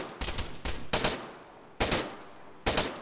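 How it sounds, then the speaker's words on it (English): Bursts of video-game gunfire from Arma 3 aimed at the player, several sharp separate volleys of rapid shots spaced about half a second to a second apart, fairly close and loud, with no talking. "Yeah, he's shooting at me."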